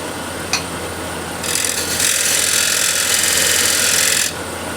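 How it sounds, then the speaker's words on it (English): Spindle gouge trimming a spinning walnut or cherry plate on a lathe, a steady hissing scrape that starts after a faint hum, holds for a few seconds close up, then stops. "with the spindle gouge, just trim it a little bit"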